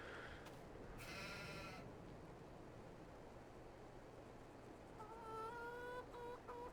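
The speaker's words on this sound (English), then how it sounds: "How's my sheeps? And yes, they are called sheeps." Sheep in the video game Farming Simulator 22 bleat twice over a soft, steady farm ambience: a short call early on, then a longer wavering bleat near the end, both fairly close and clear.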